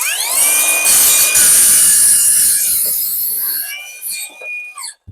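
A circular saw making a 45-degree crosscut through wood at a crosscut station, a loud close whining cut sustained for several seconds before the blade spins down and fades.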